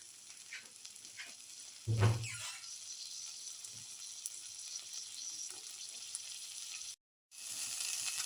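Potato and split chickpea casserole with garlic frying in a pan while being mixed: a continuous close sizzle, a brief louder scrape of stirring near the start, and a short silent gap near the end.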